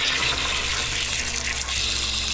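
Water gushes loudly and steadily from the pressure relief valve of an RV water heater, a continuous close rushing flow with no talking over it.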